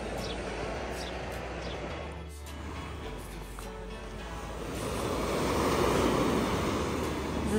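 Sea waves washing onto a beach in Odessa, a soft steady wash with wind noise that swells louder toward the end, heard from a short distance with no talk.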